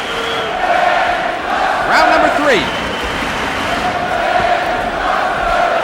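A sellout crowd of 14,000 fills Jerry Weber Stadium in Halle, Germany, for an IBF light heavyweight title boxing bout, a loud steady roar swelling and shouting beneath a commentator's voice.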